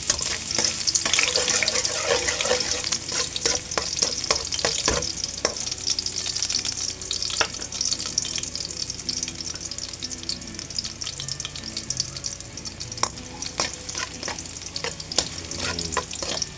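Garlic fries in hot oil for a fish tinola with a loud, steady, close-up sizzle. Crackling and spatting continue throughout, with occasional scraping strokes from stirring.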